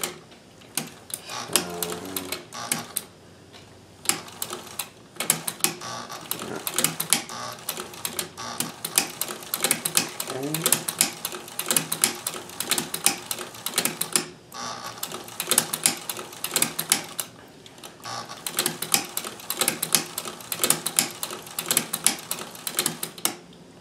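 Singer sewing machine with a hemstitcher attachment running in steady rapid clattering bursts, close and continuous with brief pauses between runs, and no voice over it.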